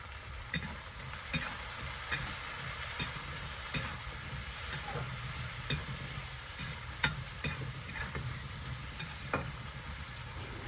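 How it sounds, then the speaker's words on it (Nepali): Chickpeas sizzle in hot oil in a pan with bottle gourd for a Nepali-style curry, with a steady frying hiss and clear scraping taps from a spoon or spatula as they are stirred, close and alone. "अघि तयार गरेको चनालाई माथिबाट राखेर राम्रोसँग चलाउनु पर्ने हुन्छ"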